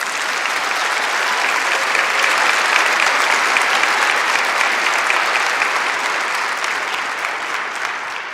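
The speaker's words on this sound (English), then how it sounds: "Let's applaud for the exercise science and public health graduates." Steady, dense applause from an audience at a university health sciences graduation recognition ceremony, a broad continuous clapping wash that holds strong for several seconds before easing slightly.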